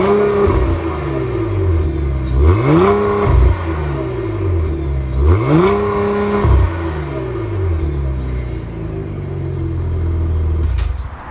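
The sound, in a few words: Cadillac CT4-V Blackwing twin-turbo 3.6 liter V6 exhaust revving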